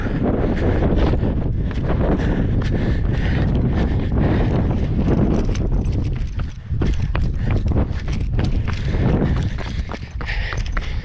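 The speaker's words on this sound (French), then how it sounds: "une sorte de vent d'est qui amène un ciel tout brumeux" A strong east wind on an open trail near the Croix de Provence buffets the microphone in a loud, constant roar with gusty surges, and a rhythmic thudding of running footsteps sounds beneath it, with no talk.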